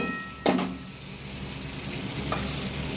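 Cubes of potato, pointed gourd and okra are sautéed in a pan for a rohu fish curry, making a continuous close sizzle with a sharp stirring scrape near the start and a softer one later.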